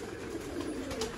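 Golden pigeons coo in a low, soft, continuous murmur, close by and steady through a brief moment with no talk.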